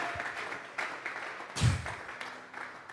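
A congregation at a Tuesday Bible study gives a short round of clapping as an offering of praise, a steady wash of hands heard throughout with a brief louder swell midway.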